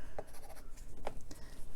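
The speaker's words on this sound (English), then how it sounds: "I'm going to go ahead and use a Faber-Castell Pitt pen." Fine-tip Faber-Castell Pitt pen inking over pencil lines on paper, a soft scratchy scribbling with brief faint strokes, close and quiet, no talking.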